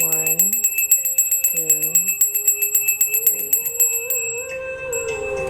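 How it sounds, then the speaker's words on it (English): A bell rings in a rapid, steady series of bright metallic strikes, close and loud, with someone talking over the ringing near the start and end. "Let me ring the bell."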